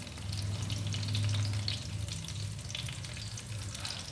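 Whole small eggplants, stuffed brinjal style, fry in an oiled pan with a steady, dense sizzle and crackle over a low hum, close and continuous, with no talking.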